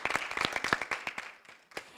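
Scattered audience clapping at a STEM education conference, a handful of distinct hand claps in an uneven rhythm that thins out and fades toward the end, fairly quiet and without speech.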